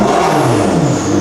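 A McLaren 650S supercar engine revs hard close by, a loud sustained whirring rise in pitch with no talk over it.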